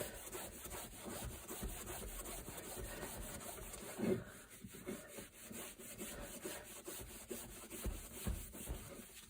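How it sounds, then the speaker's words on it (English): A kitchen cloth rubs and burnishes excess finish off a wooden gunstock on an AYA No. 4 shotgun, giving quiet repeated scrubbing strokes with a slightly louder rub midway, close and alone. "use my trusty kitchen cloth, pick a clean bit, just burnish off the excess"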